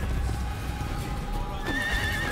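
A horse in the video game Assassin's Creed gives a loud, close whinny that rises and falls near the end, over a busy background of game noise and hoofbeats.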